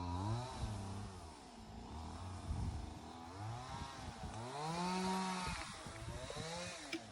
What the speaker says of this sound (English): sawing down some more logs